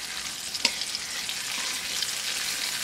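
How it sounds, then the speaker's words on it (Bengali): Pangas fish frying in hot oil, a continuous bright crackling sizzle at moderate level with one sharper pop near the start, no voices. "মাছ ভাজা হয়ে গিয়েছে, এখন আমি তুলে নেব, একবারে বেশি মাছটা ভাজা যাবে না।"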